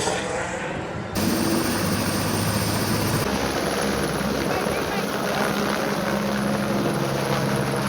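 A helicopter flies near Gandikota, the gorge known as the Grand Canyon of India. Its loud, continuous rotor and engine drone fills the whole stretch with no break.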